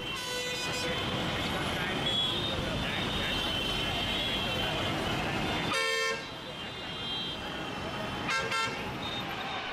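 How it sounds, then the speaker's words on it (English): Busy road traffic rumbles steadily while car horns toot several times, some short and some longer, with voices mixed into the street noise. "road traffic sounds"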